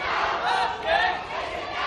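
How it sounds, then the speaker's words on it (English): An angry crowd of local residents screaming and cursing at police marching away a suspected protester in Hong Kong, a dense, loud roar of many overlapping shouting voices heard nearby. "the crowd screamed at them"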